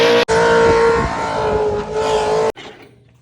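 An LS V8 engine with no oil pressure revs hard and loud for over two seconds with a steady roaring drone, then cuts off abruptly and fades to a low idle rumble.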